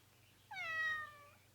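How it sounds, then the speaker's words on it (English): A single clear cat meow, drawn out and rising then falling, close and fairly quiet over a faint steady hum, lasting about half a second. "There's that pesky cat of Mrs. Elkins again."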